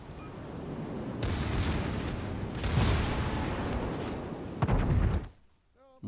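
Ship guns in World of Warships: Legends fire HE shells, heavy booming salvos rumbling one after another with a sharp blast near the end before the noise drops away.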